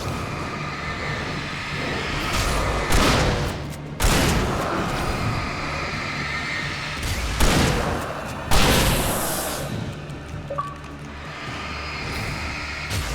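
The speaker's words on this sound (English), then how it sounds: "kill two taken with a single shotgun blast" In the video game Alan Wake Remastered, several loud, booming shotgun blasts go off a few seconds apart, each trailing a rumbling echo over a steady background of game noise, with no voices.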